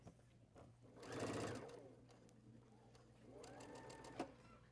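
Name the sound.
sewing machine assembly-line sewing quilt pieces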